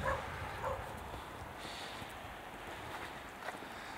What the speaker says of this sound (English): Sorry for my neighbor's dogs.